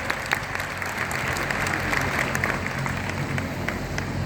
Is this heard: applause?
yes